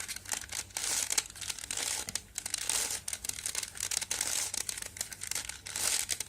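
Rubik's cube being twisted and shuffled by hand, a quick run of close plastic clicks and rattling turns in uneven bursts, no talking.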